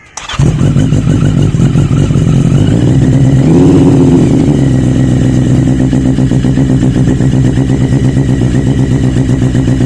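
Cold 125cc motorcycle engine started without choke, catching after a brief crank and settling into a loud, close, rapid idle that swells briefly as it revs then holds a steady throbbing beat.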